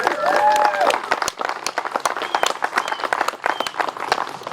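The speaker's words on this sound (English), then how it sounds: "so let's give Cindy a round of applause" Audience applause at a downtown Main Street gateway dedication, a steady patter of many hands clapping close by, with a few cheers and voices mixed in throughout.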